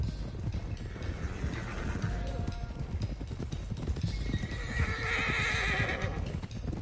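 Horses clip-clop steadily at a brisk pace in a video game while whinnies and neighs rise over the hooves, with a faint mechanical rumble beneath.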